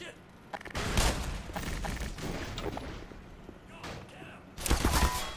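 Gunfire and a grenade blast in the video game Black Mesa, with a dense spray of shots and a heavy boom, then a later burst, all under a loud, continuous rumble of combat.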